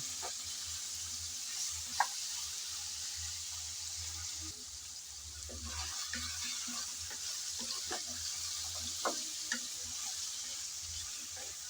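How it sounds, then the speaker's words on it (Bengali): Taro stolons (kochur loti) frying in hot oil give a steady, close sizzle with occasional sharp pops and stirring clatter, with no talking throughout. "রান্নার শুরুতেই লতি এভাবে তেলের মধ্যে ভেজে নিচ্ছি"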